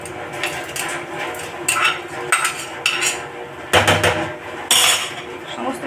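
Washed red lentils pour into a pot of hot water for masoor dal, with scattered splashing bursts and metallic clinks of a pot and utensils close by.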